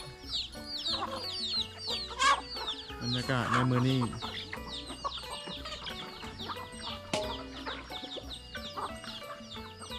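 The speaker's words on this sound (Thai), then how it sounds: "เป็ดไก่ผมกำลังกินข้าว" Chickens cluck and squawk busily close by as chickens and ducks feed, with bird calls overlapping and someone speaking briefly over the farmyard clamor.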